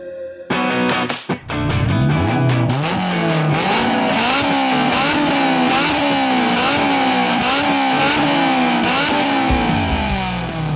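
A Honda S2000 engine revs hard and accelerates, loud and close, its high-pitched wail climbing through repeated gear changes in a rising, dropping sawtooth pattern after a brief start-up burst.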